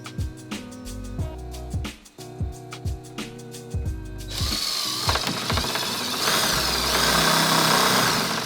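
Power drill driving screws through the face of a window pod during a barn-door blind installation, first in short repeated bursts with ratcheting clicks, then one long sustained loud whine.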